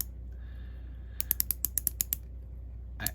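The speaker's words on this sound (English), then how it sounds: "Nice utility bezel, 60 click, unidirectional, I believe." A watch's unidirectional 60-click bezel is turned, giving a quick run of about ten crisp, evenly spaced ratcheting clicks, close and quiet, with a faint click at the end.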